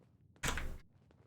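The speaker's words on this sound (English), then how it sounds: "Thought I heard footsteps." A single dull thud, like a heavy footstep in Fallout 4, lands close and fairly loud over quiet game ambience, followed by a fainter knock.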